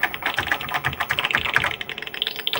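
Rapid, uneven keystrokes clatter on an Apple II computer keyboard, close and crisp, steady for a few seconds with no voices.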